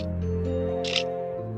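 In a Minecraft horror map, a camera shutter clicks once to take a photo, a brief crisp snap standing out over droning background game music and hum.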